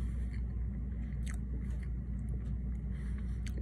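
Biting into and chewing a Crumbl tres leches cake cookie topped with whipped cream, with soft, close, repeated crunchy and squishy chewing sounds over a steady low background hum.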